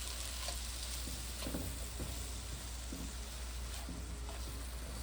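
Shrimp sizzle steadily in a hot pan, a dense continuous crackle of frying broken by soft scraping taps as they are stirred, close and even, with no talking.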